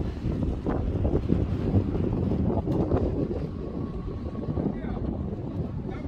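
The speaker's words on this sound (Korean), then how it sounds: "바람이 좀 많이 부네요" Strong wind buffeting the microphone at a harbor on the coast, a steady loud rumbling roar that continues throughout, with no clear talk audible over it.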